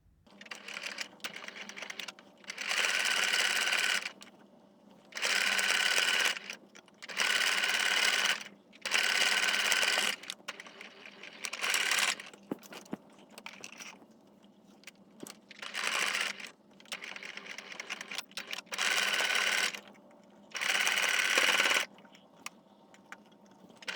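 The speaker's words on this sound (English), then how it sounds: "let's head to sewing machine now" A sewing machine runs in repeated bursts of rapid stitching through sequin fabric for a face mask, each lasting a second or two, separated by brief pauses and soft handling noises.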